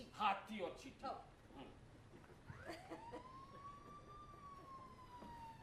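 A police siren rises and sweeps in a long wailing tone partway through, moderately loud, following a few short bursts of voices and laughter with people talking around it.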